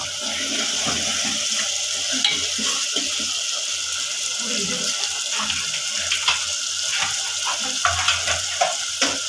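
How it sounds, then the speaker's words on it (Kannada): Coriander, garlic and masala crackle and sizzle in hot oil while frying for a festive blood fry dish, a steady busy hiss with scattered sharp pops running throughout, fairly loud and close, with no talking. "ಚೆನ್ನಾಗಿ ಚಟಪಟ ಅಂತ ಇದೆ ಕೊತ್ತಂಬರಿ ಬೆಳ್ಳುಳ್ಳಿ ಮಸಾಲ"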